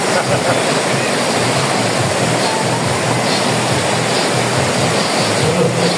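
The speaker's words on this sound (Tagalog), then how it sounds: "Lakas ng agos ng tubig," Strong rushing water roars steadily and loudly at a resort, a continuous close torrent with no pauses.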